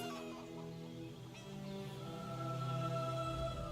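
Chickens cluck in the video game ESO High Isles, a soft, steady run of fowl calls with a faint rooster-like tone, moderately close over a low background hum, with no talking.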